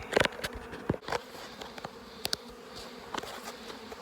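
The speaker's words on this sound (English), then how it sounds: "Always fun herding bees." Bees buzz as they are vacuumed out of their nest, a low droning hum broken by scattered sharp clicks and taps, fairly faint and without voices.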